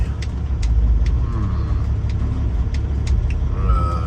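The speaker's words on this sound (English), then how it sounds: "Trash truck guy here." A garbage truck's engine rumbles close by with steady low-frequency drone, broken by a few short clanks and mechanical clicks from the truck.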